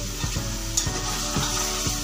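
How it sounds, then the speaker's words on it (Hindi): Masala with boiled potatoes fries in a pan for chicken biryani, with a steady, close sizzle and a spoon scraping through it in regular strokes. "अब इसको हम भून लेंगे।"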